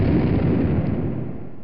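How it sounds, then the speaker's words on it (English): Tank cannon fire in a video game set in a field: a single loud, sustained booming blast that rumbles and slowly fades across the whole moment, with no talk. "the tank fires its cannon"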